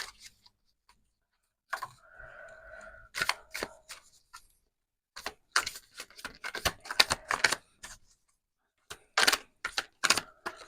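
Tarot cards are shuffled in short bursts of crisp flicking and snapping, with sharp slaps as several cards jump out of the deck, separated by quiet pauses.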